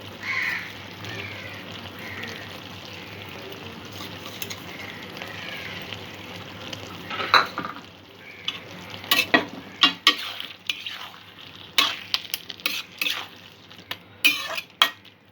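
Teasel gourd and prawn curry simmering in a pan, a low steady bubbling sizzle with a spoon stirring, growing into frequent sharp metallic scrapes and clanks against the pan in the second half.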